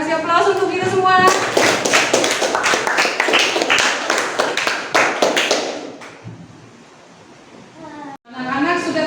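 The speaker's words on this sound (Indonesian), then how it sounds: "Kita kasih aplaus untuk kita semua." A classroom of children bursts into brisk applause that lasts several seconds and then fades, with a teacher's voice heard before and after the clapping.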